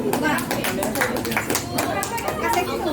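Clapping and chatter from the audience at a radio broadcasters' group iftar gathering in Palembang, steady dense applause with voices talking over it throughout.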